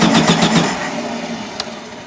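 A 1974 Volkswagen Super Beetle engine is cranked over by the starter, giving a quick run of loud rhythmic chugs that stop and fade out, with a single faint click afterward.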